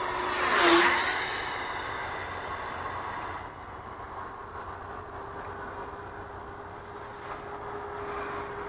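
An FMS F-18 electric ducted-fan model jet flies past at about 60% throttle, giving a whooshing whine that peaks early as it passes close, then settles into a fainter steady hum in the distance.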